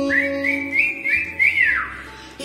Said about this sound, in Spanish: Saludo con silbido.